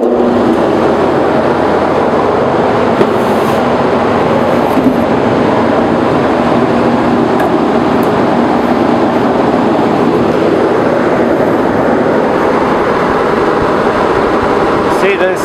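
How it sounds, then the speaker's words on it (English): A blower used to lift a big panel runs continuously, producing a loud, even, broadband roar that holds steady from start to finish. "So what I did, I came out with a blower. So we'll turn it on, it will be a little bit noisy."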